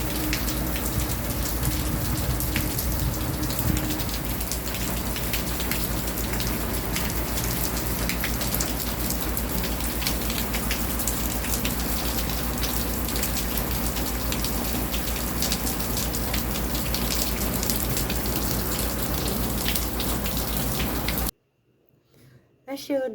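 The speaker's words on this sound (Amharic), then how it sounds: "ይህን ይመስላል ዛሬው ዝናብ አሳየኋችሁ" Steady heavy rain falls without pause, a dense close hiss on surfaces lasting about twenty seconds before cutting off abruptly.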